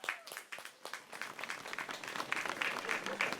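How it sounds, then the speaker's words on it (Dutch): Applause from an outdoor audience at a rainy Christmas concert on the Landgoed De Klinze estate, a moderate wash of scattered clapping that builds slightly and holds steady over a few seconds, with faint voices mixed in. "Dus graag een warm applaus voor onze gasten"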